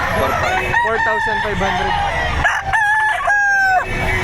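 Roosters crow repeatedly at a Saturday chicken market behind a shopping mall in Lipa, Batangas, loud nearby calls with clucking amid a busy crowd, while a person speaks briefly.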